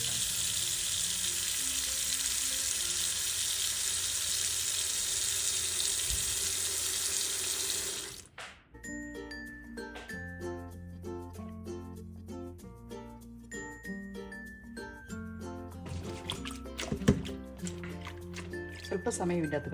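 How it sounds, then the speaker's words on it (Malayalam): Cut broccoli being washed in water with salt and turmeric: a steady, fairly loud rush of running water for about eight seconds that then cuts off abruptly, with music following. "ഇനി നമുക്ക് സ്വല്പം ഉപ്പും മഞ്ഞൾപ്പൊടിയും കൂടി ഇട്ടൊന്ന് കഴുകിയെടുക്കാം"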